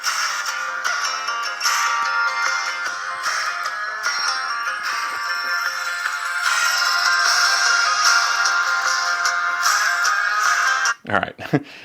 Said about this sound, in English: Let's go ahead and play some copyright-free music here.